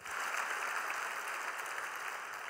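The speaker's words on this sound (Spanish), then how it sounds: "Denle un aplauso a Cristo" A church congregation applauds for Christ during a service, giving a steady, even wash of many hands clapping together, fairly distant and soft, with no voices over it.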